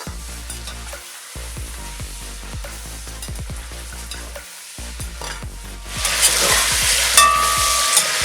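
Pieces of meat stirred and fried in a pot until golden for Samarkand plov, with rhythmic scraping stirs over a steady sizzle that swells into a loud, bright hiss partway through.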